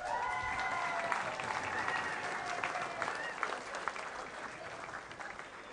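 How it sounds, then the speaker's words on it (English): Audience at an awards ceremony for a volunteer in policing award, clapping and cheering in a dense, sustained burst of applause that gradually fades, with a few voices calling out over it. "You don't get extra points for cheering, you know."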